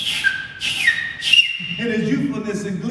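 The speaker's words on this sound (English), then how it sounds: "and whistled louder" A person whistles a few short, bright, rising notes in quick succession, followed by a low murmur of background sound.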